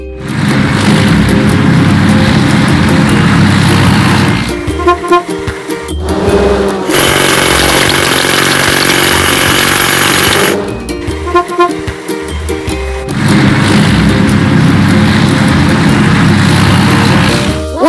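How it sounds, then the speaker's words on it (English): Hydraulic hammer cracking rocks in a kids' truck video game, a loud rapid mechanical hammering that runs in long stretches, breaking off into a brighter rattling passage midway before resuming. "Let's crack the biggest rocks."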